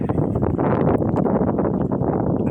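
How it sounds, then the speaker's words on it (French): Outdoor wind buffeting the microphone, a dense low rumbling gusting continuously at close range with no speech over it. "Il y a un peu de vent aujourd'hui, je sais pas si ça va s'entendre."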